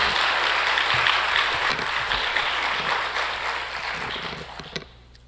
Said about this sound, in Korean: 우리 하나님께 영광의 박수 한번 올릴까요?